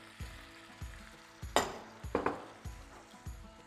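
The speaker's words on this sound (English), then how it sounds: "we're going to cook the shrimp" Shrimp cooking in Old Bay butter in a warm sauté pan, a quiet sizzle with soft repeated low thumps and a few sharper crackling bursts from the pan.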